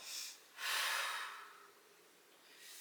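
A slow, deep breath during a yoga twist: a short inhale, then a longer, breathy exhale that fades, followed by another soft intake, close and quiet with no talking.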